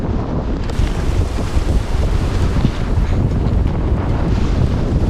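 Storm wind of around 35 to 38 knots roars continuously while sailing a sailboat at sea, loud and close, buffeting the microphone with steady rumbling gusts and no voices.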